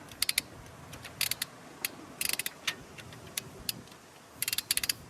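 Sharp ratchet clicks come in quick bursts with short pauses as a wrench works a tight bolt on a Kia, loud and close, with no voices.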